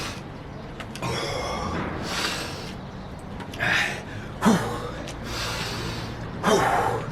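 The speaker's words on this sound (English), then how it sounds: "Just use that breathing." Heavy, effortful breathing during a full-body strength workout, with repeated gasping inhales and exhales across several seconds, fairly close and alternating with moments of strain.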